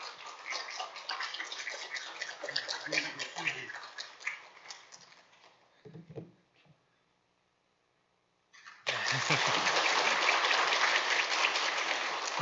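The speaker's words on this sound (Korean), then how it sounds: "함께 환영의 박수, 하나님께 영광의 박수를 했으면 좋겠습니다" Church congregation applauding at a Sunday service, a dense clapping burst that fades and breaks off into near silence before loud, full applause resumes for the rest of the clip.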